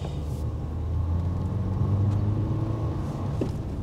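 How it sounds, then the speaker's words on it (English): A 2021 Dacia Duster climbing a steep incline, its engine giving a steady low rumble that swells slightly as it revs, heard from inside or close by with no talk. "Give it a bit of a rev"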